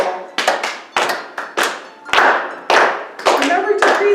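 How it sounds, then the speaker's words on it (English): Hands clapping in a church-hosted faith yoga class, about seven or eight loose claps spaced roughly half a second apart, close and fairly loud, with a person speaking between them. "let those hands clap like the trees in Isaiah"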